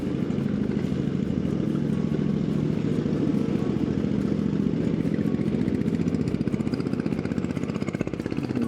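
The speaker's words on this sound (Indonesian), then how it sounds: "aslinya mesin traktor pembajak sawah gitu, mau dijadiin mobil" Engine from a rice-field plough tractor, converted to power a car, runs steadily on a road in Yogyakarta with a loud, continuous clattering chug that holds an even rhythm throughout, close by and without speech.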